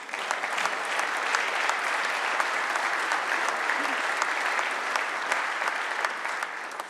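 A General Assembly audience applauds during the 2025 Indiana State of the State address by Gov. Mike Braun, with even, sustained clapping from a large room that holds steady and tapers slightly at the end.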